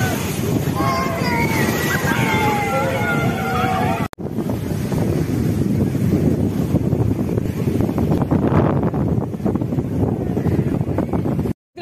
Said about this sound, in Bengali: আবারও বিশাল বড় ঢেউ আজকে দীঘায়